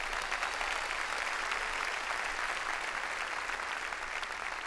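A church congregation gives continuous, even applause, a dense wash of many hands clapping at a moderate level from a slight distance.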